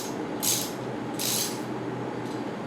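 A 5 mm hex tool loosening the pinch bolt on a mountain bike drivetrain: two short bursts of close metallic ratcheting clicks, with a fainter third, over a steady background hiss.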